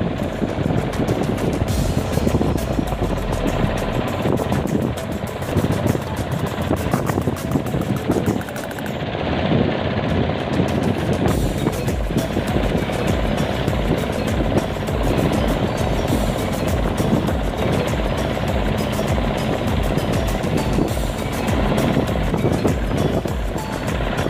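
A speedboat engine runs at a steady, loud drone while the boat heads home from sardine fishing at sea, a continuous close roar with wind and water noise over it that barely changes for the whole stretch, with no talk.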